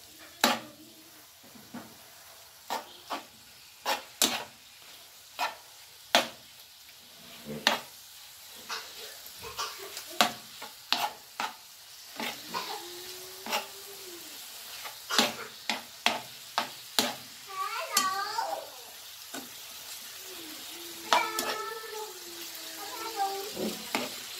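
Food cooking in a pan for cream cheese chicken pizza, seasoned with cumin powder and salt, with repeated sharp clacks of a spoon stirring against the pan over a soft sizzle, and someone talking at times.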